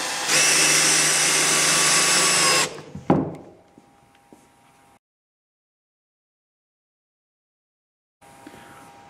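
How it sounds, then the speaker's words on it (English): A power drill whines steadily for about two and a half seconds, driving 3-inch deck screws into a homemade 2x4 sawhorse beam, followed by a sharp clatter and quieter handling knocks before silence and a faint return of noise. "Secure down the center with 3-inch deck screws."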